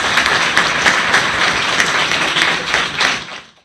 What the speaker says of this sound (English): So please applause for Pancho.